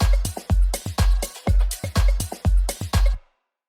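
Electronic drum loop with punchy kicks, a clap and toms in a steady, loud, repeating pattern, about ten hits over a few seconds before stopping abruptly into silence.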